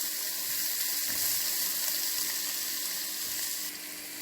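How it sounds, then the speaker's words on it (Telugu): Chopped onions frying over low heat for a tomato sambar, a steady broadband sizzle running close and fairly loud throughout, with a slight drop in level near the end. "కట్ చేసి పెట్టుకున్న ఉల్లిపాయ ముక్కలు వేసి సన్నని సెగ మీద ట్రాన్స్లూసెంట్ కలర్ వచ్చే వరకు వేయిద్దాం"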